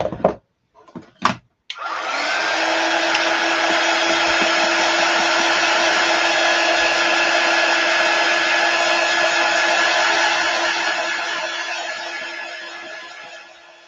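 A hair dryer switches on after a few handling clicks and runs steadily at full blast on a chalk paste craft project, a loud, even whooshing whine that holds for about twelve seconds and tapers slightly at the end.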